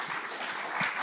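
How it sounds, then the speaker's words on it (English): Brief, soft applause at an online proverbs colloquium, thanking a speaker named Stefan; scattered faint clapping fills the moment evenly with no voices over it. "then a round of applause to Stefan"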